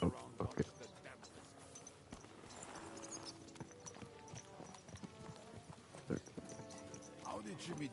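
Horse hooves clip-clop at a walking pace in the medieval video game Kingdom Come Deliverance 2, quiet and steady under game dialogue and ambient outdoor sounds.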